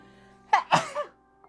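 A single human sneeze, a sharp intake followed by a close, loud burst that trails off, with quiet room background before and after.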